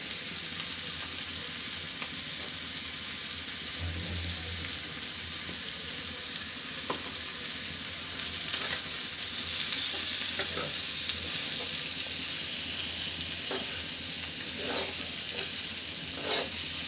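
Chopped onion fries with nearly cooked potatoes in a pan, a continuous close sizzle punctuated by repeated clinking, scraping stirs, with no voices heard.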